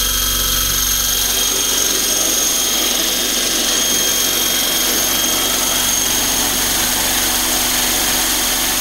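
An eFlite Blade 400 flybarless RC helicopter, freshly rebuilt, spins its rotor in a steady, loud, continuous high-pitched whine and hum that holds unbroken and close throughout, with no talking.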